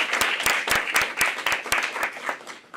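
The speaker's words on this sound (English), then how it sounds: "Please join us for a round of applause." An audience claps for a panel of speakers at a climate resilience forum, the applause thin and uneven with distinct individual hand claps standing out at irregular moments.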